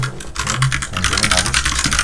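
Rapid keystrokes on a computer keyboard while drawing in CAD software, a dense burst of clicky taps with a faint voice underneath.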